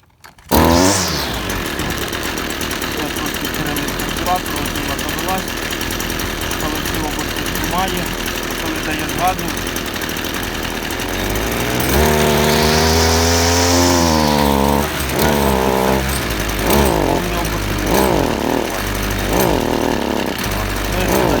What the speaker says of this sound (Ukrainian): Підкачуємо бензинчик, переводимо дросель в режим заводу, включаємо запалення.